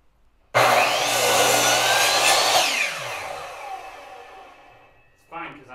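A power saw, likely a miter or chop saw, cuts through a roughly six-inch wood piece for a wren house with a loud, sustained whine that slowly winds down, followed by a brief voice.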